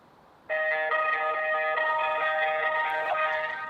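A call to a builder's merchant plays a tone after a brief quiet start, followed by bright, steady electronic on-hold music that continues at an even level.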